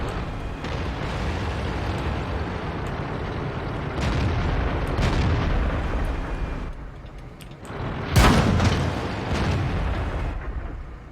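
Tank cannon fire in World of Tanks: several heavy booms, one a sharp, loud blast near the end, punch through a rumbling engine drone, some distant and others close.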